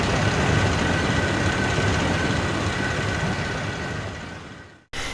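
Continuous rumbling and rattling of train cars rolling along rails, loud and close, a dense steady roar without pauses.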